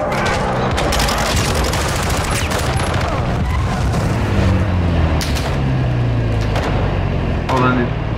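Rapid bursts of automatic gunfire and explosions from the video game Call of Duty Modern Warfare 2 (2022), loud and dense throughout, with a constant roar of combat noise and voices talking over it.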